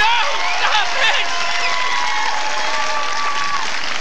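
A standup comedy audience in San Francisco breaks into steady applause and crowd noise after the comic tells them not to clap, with a voice talking over it.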